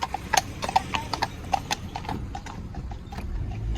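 Horses' hooves clip-clop on a paved main road during a hack, a steady, fairly close run of hoof strikes from two horses with light traffic rumble beneath.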